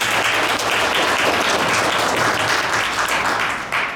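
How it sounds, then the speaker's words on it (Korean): Audience applause at a memorial ceremony for the late POSCO chairman Park Tae-joon, a dense sustained ovation from a large crowd, loud and even before easing slightly at the end. "백성규 전 총장님께 다시 한번 큰 박수 부탁드립니다"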